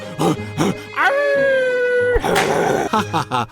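A person mimics a dog howling, holding one long wavering howl in the middle, with talking and yelping noises before and after it.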